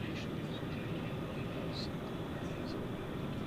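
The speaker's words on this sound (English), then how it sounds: "I believe that's coming in on runway 18 left, the nominal takeoff runway" A jet airliner on approach to runway 18 left at DFW Airport at night, a steady, distant broadband engine rumble held throughout without a break, faint background talk beneath.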